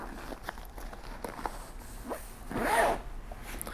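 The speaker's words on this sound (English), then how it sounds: "Inside here, there is a zipper." A zipper on an Alpaka Elements Tech Brief Pro bag is pulled open in one quick, close rasp, after a few faint rustles and handling sounds.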